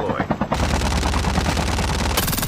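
Rapid automatic gunfire in a shooting video game, a loud, continuous close-range burst rattling for about two seconds after a few opening shots, with a player's voice in the mix.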